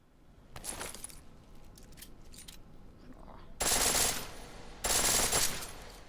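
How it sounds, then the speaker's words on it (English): A pistol set to full auto fires at a shooting range in Deus Ex: Mankind Divided: two loud, dense bursts of rapid shots follow some lighter clicks and taps. "The pistol in full auto will take down targets fast, but it'll burn through your ammo"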